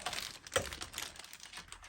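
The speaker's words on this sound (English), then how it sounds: "it's a tiny keyboard and it's very nice to type on" Someone types on a tiny non-mechanical keyboard with an old AT connector and coiled cable: a quick, even run of soft, faint key clicks with one sharper tap partway through.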